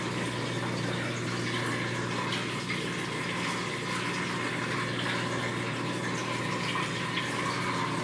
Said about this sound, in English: there is water from up here in the front leaking, getting ready to go up underneath my refrigerator